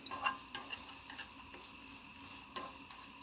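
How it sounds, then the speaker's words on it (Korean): Cut Spam fries in a pot over a gas flame, a soft steady sizzle broken by light clicks and scrapes of stirring at irregular intervals. "잘라놓은 스팸을 냄비에 넣어주고요. 가스불을 켜서 노릇노릇할 때까지 볶아줍니다."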